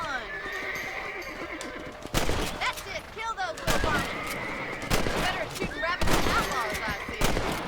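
Rifle shots at rabbits in the video game Red Dead Redemption, several sharp cracks spaced roughly a second apart, mixed with horse whinnies, hoofbeats and game voices talking.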